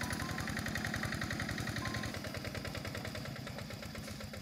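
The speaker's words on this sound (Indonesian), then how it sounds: "keseruan menonton membajak sawah menggunakan mesin traktor Yanmar" A Yanmar TF 70 tractor engine works a deep, muddy rice paddy, its single-cylinder diesel chugging in a fast, even thump with a clattering mechanical rattle, steady and fairly close with no voices.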